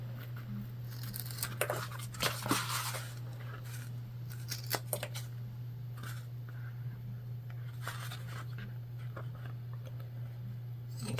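Scissors snip and crunch through excess fabric while trimming a structured Amelia bag, a few quick, close cuts and rustles over a steady low electrical hum.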